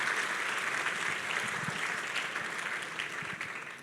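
A Spanish-speaking church congregation claps together in continuous, even applause throughout, a busy crackle of many hands heard from across the room at moderate volume.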